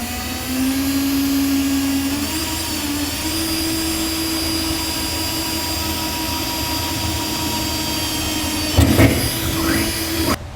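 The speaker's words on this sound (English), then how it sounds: "So we'll drill a pilot hole first using a small drill bit." A drill with a small bit whines at a steady high pitch for several seconds while drilling a pilot hole in a 2017 GMC Sierra 2500 metal truck bed, then stops, followed by a brief clatter.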